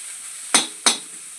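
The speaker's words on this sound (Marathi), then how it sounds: "आता कांदा आणि थोडं टमाटरचं छान भाजतो का तेलावर" Onion and tomato sizzle in hot oil with a soft steady hiss, broken by two quick, sharp scraping stirs a moment apart.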